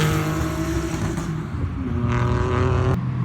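Daihatsu Mira Turbo with reground camshafts revving high, a continuous buzzing engine note with rising and falling pitch, close and loud, with a sharp click near the end.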